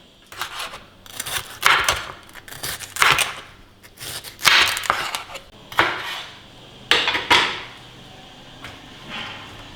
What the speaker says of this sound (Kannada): ಇದನ್ನು ಅಷ್ಟೇ ಉದ್ದುದಕ್ಕೆ ಕಟ್ ಮಾಡ್ಕೋಬೇಕು